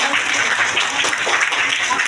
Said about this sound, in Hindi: िए श्री शर्मा जी का नाम प्रस्तावित करता हूं। आप सभी लोग तालियां बजाकर